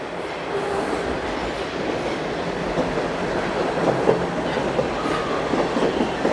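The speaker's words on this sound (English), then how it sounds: "And here comes our train." A Toronto subway train rumbles steadily closer into a station, a continuous rolling roar with faint clatter from the wheels and no voices.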